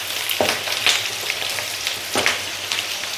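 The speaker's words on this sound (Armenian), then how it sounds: "Կեղևով եմ տապակում փոքրիկ նոր կարտոֆիլները։" Small new potatoes in their skins fry in oil, a dense close hiss of sizzling with a few crisp pops and stirring scrapes, steady and continuous without speech.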